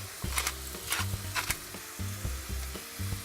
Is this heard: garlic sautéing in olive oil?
yes